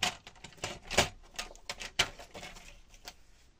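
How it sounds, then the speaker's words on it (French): Paper is cut for a scrapbooking page, heard as a close run of crisp, irregular snips and rustles, with a couple of sharper clicks standing out. "Je viens couper."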